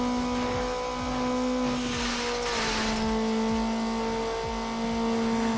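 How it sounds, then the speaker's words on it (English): A Mazda Miata races off-road through a construction site in Need for Speed Underground, its engine holding a steady droning tone with repeated shifts and rumbles, a brief whoosh of scraping or tire noise mid-run, and no talk. "Do some off-roading in the Miata."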